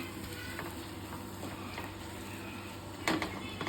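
Chicken curry sizzles in a pan while it is stirred and mixed, a steady frying hiss with light scraping strokes and a sharper clink of the utensil near the end.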